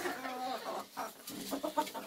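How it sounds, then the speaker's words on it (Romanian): A mixed-breed rooster clucking and calling in short, uneven bursts, close and moderately loud, with a few other faint sounds in the background. "Ăsta este un cocoș, un metis."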